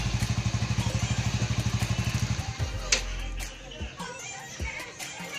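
A motorcycle engine idles just after starting, a steady rapid thumping pulse for about two and a half seconds before it cuts out, followed by clattering handling noises and a person speaking.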